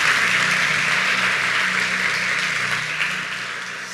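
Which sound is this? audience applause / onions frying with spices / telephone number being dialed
audience applause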